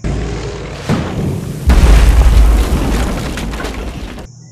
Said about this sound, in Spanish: Solo se construyó para explotarla